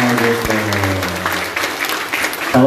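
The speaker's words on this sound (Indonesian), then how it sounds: "Tepuk tangannya di atas kepala. Boleh kasih tepuk tangan untuk kita semua ya" Talk show audience clapping with hands held above their heads; loud, dense applause that runs steadily for a few seconds with faint voices and background tones underneath.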